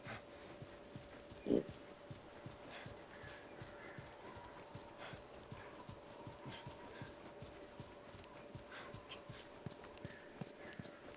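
Horse hooves clip-clop steadily in the video game The Last of Us, a faint, continuous rhythmic patter with one brief louder knock near the start, heard without speech.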